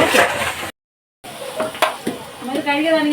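Sliced onions sautéing in a pan for a chicken curry, giving a steady loud sizzle with scraping stirs, briefly cut to silence, then resuming with clinks of a spoon against the pan.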